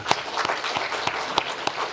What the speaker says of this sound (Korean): 우리 예배를 받으시는 하나님께 영광의 박수를 올려드리겠습니다